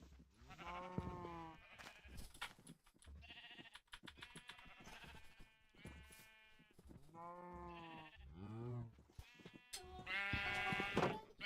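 Repeated sheep bleats from the Minecraft video game, a series of wavering calls spread across the clip, fairly loud and close with short gaps between them and no talk.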